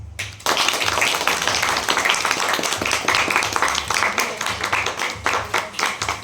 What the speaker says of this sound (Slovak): možno taký jeden kolektívny potlesk.